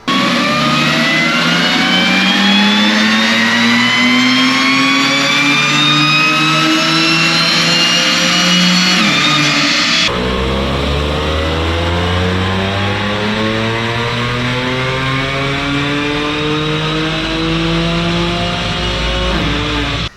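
Audi B8 S4 engine with dual pulley and throttle body upgrades, tuned on a 93 octane file, screaming through loud full-throttle dyno pulls as the revs climb steadily, then drop and rise again in a second sweep.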